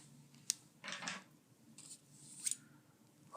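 Quiet scissors snip at thin packaging, a few soft cutting strokes with sharp clicks of the blades, close and faint.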